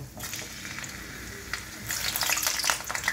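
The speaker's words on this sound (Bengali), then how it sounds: "আমি আলুটা ভেজে কুকারে সেদ্ধ করব।" Potatoes fry in mustard oil, giving a close hiss that swells into loud crackling spatter in the second half, with faint stirring and no voices.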